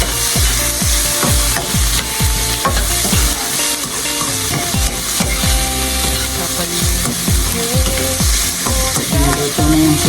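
Onions sautéing in a pan for chicken and pork adobo, a continuous loud sizzle punctuated by a steady rhythm of wooden spatula scrapes and taps against the pan, close up with no talking.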